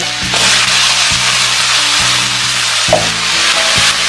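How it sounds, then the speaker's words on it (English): Ginger, julienned onion and cumin seeds sauté in ghee and oil in a pan, giving a steady, loud broadband sizzle with a few sharp stirring knocks and scrapes spaced through it, and no talking. "saute till light golden color"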